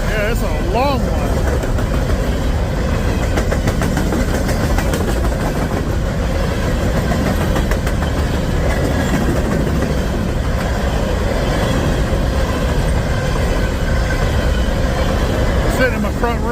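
A long freight train of hopper cars behind two locomotives rolls by at speed, a sustained loud rumble with faint wheel clatter throughout, with someone speaking intermittently over the noise.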